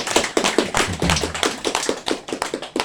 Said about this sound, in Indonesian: mari kita semua tepuk tangan